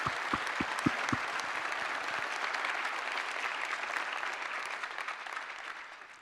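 Applause from the crowd at the WAF award ceremony in London, opening with a few distinct close claps before swelling into steady dense clapping that tapers off at the end.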